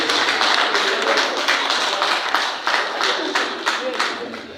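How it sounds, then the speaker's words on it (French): Clapping from the audience at a general assembly of the Association of Women Magistrates of Senegal, a crowd of hands beating in a fairly quick rhythm, moderately loud, with voices mixed in underneath. "sous vos applaudissements"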